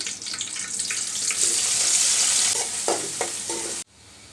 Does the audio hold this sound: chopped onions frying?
yes